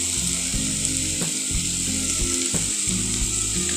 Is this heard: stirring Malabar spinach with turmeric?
yes